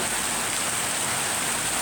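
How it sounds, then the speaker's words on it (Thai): First rain of the year falling steadily, a dense, even hiss of rainfall with no break or voices, close and fairly loud throughout. "ฝนแรกของปีนี้ค่ะ"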